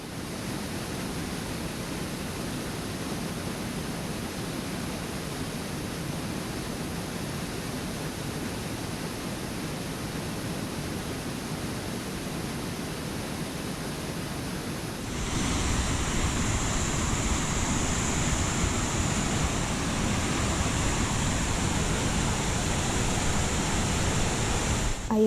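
A river rushes past waterfalls in Scotland's Glencoe valley as a steady broadband roar, and the roar grows louder and brighter partway through as the water comes closer.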